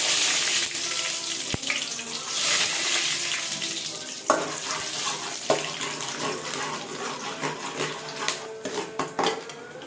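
Mustard seeds spluttering in hot oil while cooking a village-style fenugreek kuzhambu, a loud dense crackle with sharp pops scattered throughout that thin out slightly toward the end.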